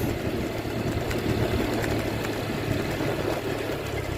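A motorcycle engine runs nearby at a steady, rough idle-like rumble, continuous and moderately loud, with no talk.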